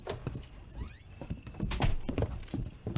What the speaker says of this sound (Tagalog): Ang daming kuliglig.